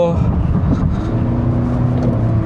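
Hyundai Venue diesel in sports mode heard from inside as a steady, loud engine drone with road rumble, holding an even pitch throughout.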